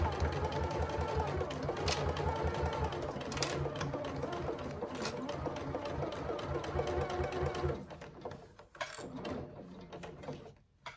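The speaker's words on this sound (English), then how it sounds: "I prefer to stitch it on the back so that the faux leather doesn't bunch up" A sewing machine runs steadily stitching a faux leather handbag at a long stitch length, close and loud for several seconds before stopping, followed by a few scattered mechanical clicks.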